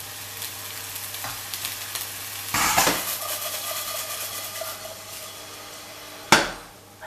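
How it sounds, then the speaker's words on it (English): Broccoli semi-frying in a pan, a steady close sizzle with clattering as it hits the hot surface and a sharp metallic knock near the end. "now we're just going to go for like a semi-fry on the pan. And broccoli goes straight in."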